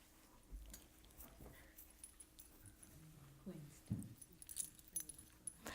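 A big red dog whimpers faintly in a quiet room, with soft brief whines and a few small rustling, jangling noises nearby.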